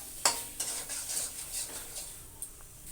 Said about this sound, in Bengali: আলু দিয়েও কষাই নেবো